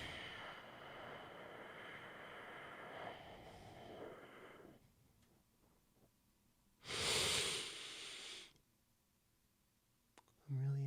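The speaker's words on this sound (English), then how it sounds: "So you exhale." A long, slow exhale performed as a breathing exercise, a loud breathy rush lasting a couple of seconds, close to the microphone, with quieter breathing before it and near-silence after.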